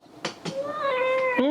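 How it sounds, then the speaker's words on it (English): A cat gives a drawn-out meow, preceded by two short soft sounds and ending with a brief rising upturn, close and clear in a quiet room. "Meow."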